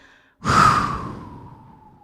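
A deep, audible exhale during a guided breathing exercise: one long, close breath that swells quickly, then trails off slowly over about a second and a half, with no talking.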